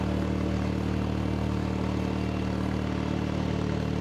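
A powered snow broom runs with down pressure pushed onto its brush, a steady loud droning motor hum with even low tones that holds constant throughout, no talk over it.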